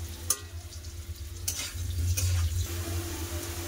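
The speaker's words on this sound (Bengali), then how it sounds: "আলু ভাজা হয়ে এসছে" Potatoes for a meat curry sizzle in oil in a pan on a home kitchen stove, a soft crackling fry broken by a few sharp clinks and scrapes of a spatula stirring against the pan.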